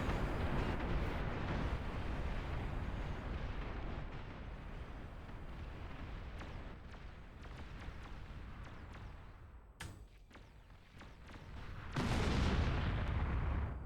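Nuclear missile launch in a video game, a long deep rumbling roar with booming blasts that eases, cuts briefly, then surges again loudly near the end.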